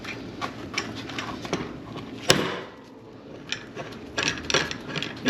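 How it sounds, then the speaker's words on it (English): A slide hammer strikes sharply on a bicycle during a minor tune-up, one loud metallic bang standing out among scattered lighter clicks and taps of workshop handling. "They call this a slide hammer."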